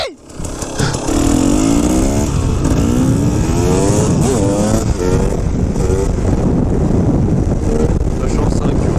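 A KTM 250 EXC two-stroke enduro motorcycle revs and rises through the gears while riding, loud and close with heavy wind buffeting throughout.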